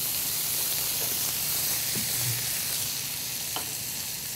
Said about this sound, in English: Once the shallots start to caramelize, a little chives, add a touch more oil to form our vinaigrette